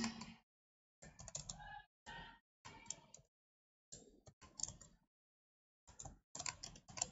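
Bursts of typing on a computer keyboard, clusters of quick close clicks separated by short silent pauses, filling in an online application form, quiet and alone with no talk.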